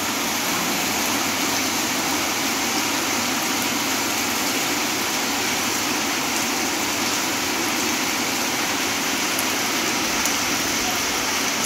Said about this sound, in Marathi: 9:10 झाली आणि पाऊस सुरू झाला आहे.